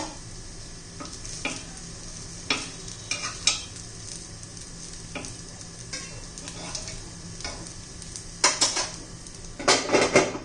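Sabudana appe fry on low gas in an appe pan: a steady soft sizzle runs throughout, with sharp metallic clinks and scrapes of a utensil against the pan, busiest near the end.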